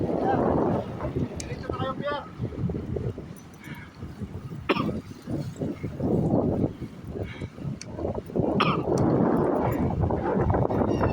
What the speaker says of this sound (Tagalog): Ito, napakalakas na naman po ulit ng hangin po.